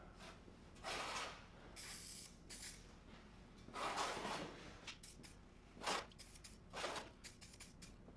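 A spray can applies semi-gloss black paint to the inside of a 1941 Chevy Harrison H-172 heater in short, close hissing bursts, about five separate sprays with quiet gaps between them.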